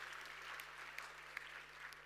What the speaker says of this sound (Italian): Un applauso al pessimismo.